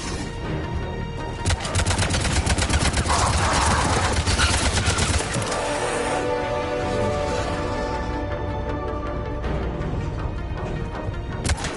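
Rapid sustained automatic gunfire in Mass Effect 3, a dense rattling volley of shots starting after a brief lull and continuing loudly for several seconds, then giving way to ringing combat noise and tonal game sounds.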